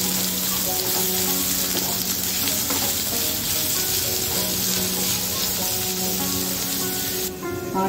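Finely chopped onion frying with cumin seeds in hot oil gives a steady, dense sizzle that runs unbroken and loud all the way through, close up, with no voices.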